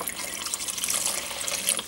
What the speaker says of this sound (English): I'm adding 4 quarts of low-sodium chicken broth.